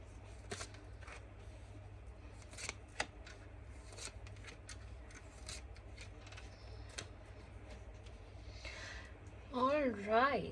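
Tarot cards being laid out and arranged by hand on a table, a run of soft, quiet taps and brushes at irregular intervals over a steady low hum, with a voice beginning near the end.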